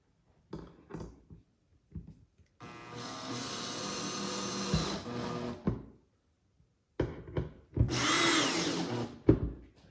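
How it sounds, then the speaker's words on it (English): A power drill drives screws into cedar slats on an Adirondack footrest, with two sustained whirring bursts amid scattered clicks and handling knocks, close and clear with quiet gaps between. "Drive your screws in, just so the screw is sitting in the countersink and not sticking up."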